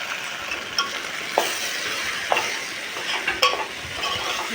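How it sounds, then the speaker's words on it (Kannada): Okra stir-fried with turmeric and salt sizzles steadily in a pan, with a few sharper spatula scrapes and clicks breaking through the continuous crackle; no one speaks. "ಅರಿಶಿಣ ಉಪ್ಪು ಹಾಕಿ ಸ್ವಲ್ಪ ಫ್ರೈ ಮಾಡಬೇಕು."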